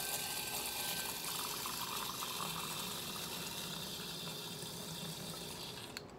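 Nitro cold brew coffee pours with nitrogen in a continuous hissing, rushing stream of liquid that stays fairly quiet and eases off slightly toward the end.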